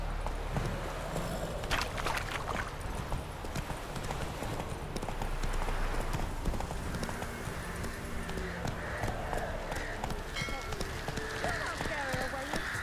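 A horse gallops in The Witcher 3 video game, its hooves beating a fast rhythmic clip-clop under in-game music, with a brief whinny and character voices speaking over it.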